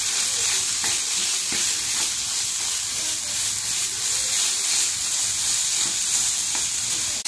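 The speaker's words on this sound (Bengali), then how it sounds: "এখানে আমি চাট মশলা দিয়ে ভালো করে নেড়ে চেড়ে মিশিয়ে নামিয়ে নিব" A snack tossed with chaat masala is stirred in a hot pan. A steady oily sizzle runs throughout, with scattered scrapes and knocks of the spoon against the pan.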